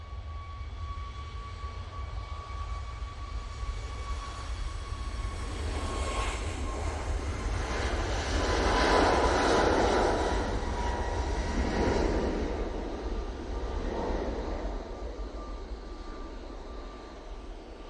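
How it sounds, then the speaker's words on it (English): A TUI Boeing 737 MAX 8 takes off from Manchester Airport, its jet roar rising out of a low rumble, peaking loudly around the middle and then fading as it climbs away, with no talk. "TUI off to Orid now using the 737 MAX 8."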